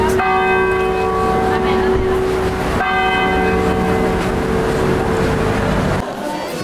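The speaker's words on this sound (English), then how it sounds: "All I need is some church bells ringing." Loud, ringing bell tones sustain and overlap continuously, struck again partway through, with a dense wash of outdoor noise underneath.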